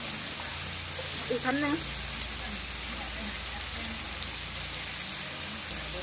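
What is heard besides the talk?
rain falling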